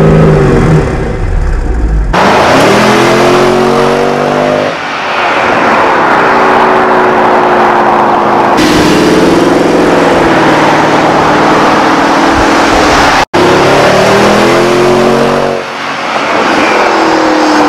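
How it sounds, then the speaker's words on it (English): Loud V8 exhaust of a Mercedes-Benz R63 AMG minivan revving repeatedly, rising and falling through gears with deep rumbling harmonics, close and continuous with brief cuts between passes. "So the exhaust note on the R63 is fantastic."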